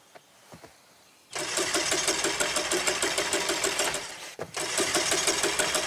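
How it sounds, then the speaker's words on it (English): In The Quarry video game, a car engine cranks over and over without catching, a fast rhythmic chugging that stops for a moment and then starts again after a few faint knocks. "I think there's something wrong with the engine, Mr. H."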